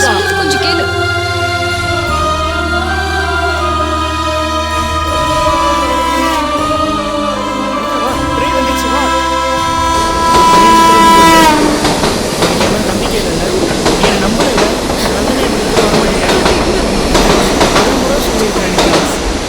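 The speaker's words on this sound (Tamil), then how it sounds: "ட்ரெயின் வேற கிளம்பிடுச்சு" A train pulls away with rising rumble and clattering wheels after a stretch of music, growing louder and noisier as it moves.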